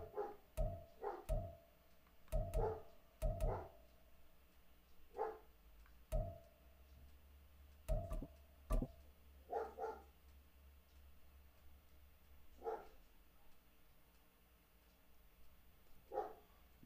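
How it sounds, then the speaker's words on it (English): A dog barks in repeated sharp bursts, loud and close, with irregular pauses between volleys; no talking is heard. "Dog's going crazy."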